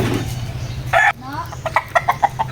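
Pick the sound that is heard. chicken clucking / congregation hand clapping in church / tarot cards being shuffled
chicken clucking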